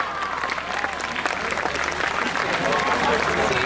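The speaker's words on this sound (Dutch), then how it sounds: "Nog een applaus" Spectators at an outdoor show jumping competition clap in a sustained round of applause, with crowd voices and a loudspeaker voice mixed in underneath.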